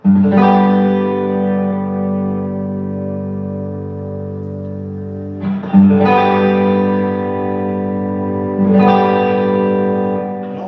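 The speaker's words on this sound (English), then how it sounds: "Now let's crank the reverb up a little bit." A G chord strummed on an electric guitar with heavy reverb, struck three times with each chord sustaining and ringing out in a long wash before the next hit; loud and close, no talking.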